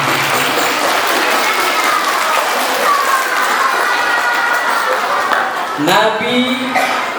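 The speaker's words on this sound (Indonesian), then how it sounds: "tepuk tangan dulu untuk kita semua" Steady, dense clapping from a large group fills the whole stretch, with children's voices chattering and calling over it near the end.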